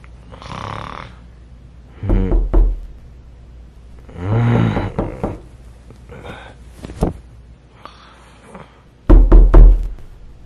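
Several loud knocks on a door come in separate bursts, close and sharp, with a snoring-like rasp and quiet pauses between the groups of raps.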